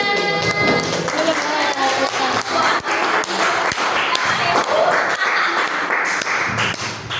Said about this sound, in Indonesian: Masya Allah, tepuk tangan semuanya